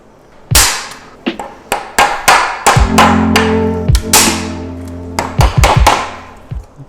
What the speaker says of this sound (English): then I'm gonna try to hammer in the staple